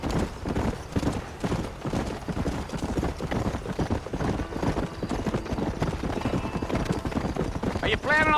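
Horse hooves clip-clop in a quick, steady rhythm as a rider travels in the Red Dead Redemption video game, close and continuous, with a brief whinny-like sound near the end.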